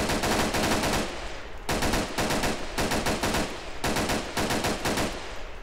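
In the video game Arma 3, an Ultimax machine gun fires several loud, rapid bursts at close range, each lasting about a second and separated by short pauses.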